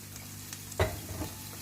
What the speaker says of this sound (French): je vais les faire revenir un petit moment